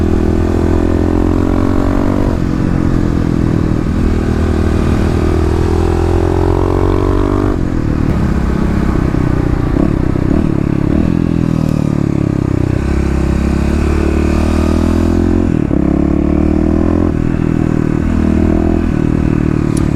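A Kawasaki KLX351 dual-sport motorcycle rides steadily on a sunny Oregon day, its engine droning loud and close with shifting pitch as the throttle rises and eases, no voices.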